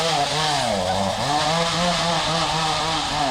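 A chainsaw running loud and close, its motor droning steadily with the pitch dipping and rising as the throttle shifts, alone with no voices.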